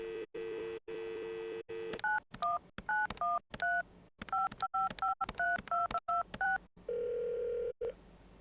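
A video game telephone in a kitchen is dialed: a steady dial tone gives way to a quick, uneven run of clear beeping keypad tones, followed by a longer single tone. No one speaks.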